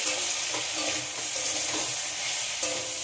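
Ginger paste and turmeric powder sauté in a hot pan, a soft steady sizzle with gentle stirring scrapes close by.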